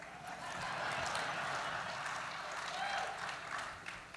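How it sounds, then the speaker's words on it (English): A large conference audience applauds for a sponsor, a broad, even roar of clapping heard from a distance that swells and holds before tapering off at the end. "Please give Daikin North America a round of applause for its support"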